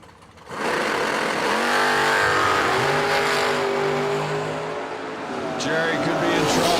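A drag racing car, one of them a Mustang, launches at a dragstrip with a loud engine roar that rises steeply in pitch as it accelerates away, staying powerful and close throughout.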